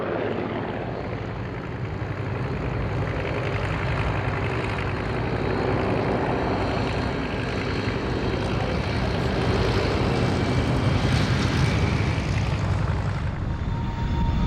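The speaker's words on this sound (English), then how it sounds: "by Frank Barwell in 1933, the Bristol monoplane was intended for the commercial and corporate market, but it soon attracted interest from the Air Ministry due to its high performance and speed" A Bristol monoplane flies at an airshow, its engine droning continuously for the whole stretch with a broad, steady roar that swells slightly midway; fairly loud and sustained with no talk.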